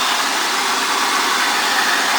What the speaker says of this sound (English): And this is my engine.